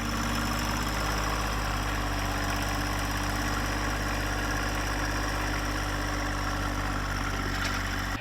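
A John Deere 1025R compact tractor's engine runs steadily as it backs onto its mower deck, a constant loud drone with no breaks.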